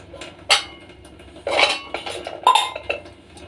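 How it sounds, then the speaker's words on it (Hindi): Metal utensils and dishes clatter and clink in a kitchen sink during washing, a few sharp close bursts of clanking separated by short quieter gaps. "2 बर्तन थे बस, अभी करके रही मैं बर्तन।"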